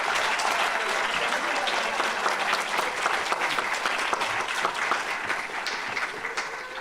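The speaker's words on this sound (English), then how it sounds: "I would like you all to give like them an extra applause" Sustained clapping from a conference audience at a congress, a thick continuous patter of many hands holding strong for several seconds without a break.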